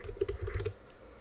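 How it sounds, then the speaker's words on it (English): Rapid keystrokes on a computer keyboard while entering a name into a template field in Microsoft Word 2007, a quick burst of close, crisp clicks that stops after about two thirds of a second. "if I just start typing in my name, it will add in"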